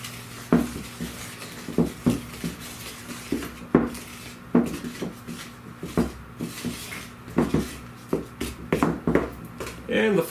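Pineapple coconut bar batter is stirred in a bowl with steady, repeated scraping and knocking of a utensil against the bowl's sides. A person talks faintly now and then over the mixing.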